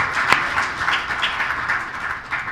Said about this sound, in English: we should clap it up